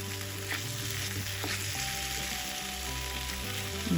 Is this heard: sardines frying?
yes